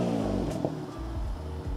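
An Audi TTS pulls away at the start of a test drive, its engine rising briefly over cabin rumble before settling into a low steady drone.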